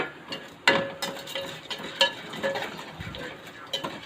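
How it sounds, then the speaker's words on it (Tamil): Toor dal roasting in a pan with fenugreek and cumin, with a soft crackle and sizzle, light scraping and stirring clinks, and a few sharp metallic taps of the spoon against the pan. "நல்லா செவக்க வறுத்துறோம்."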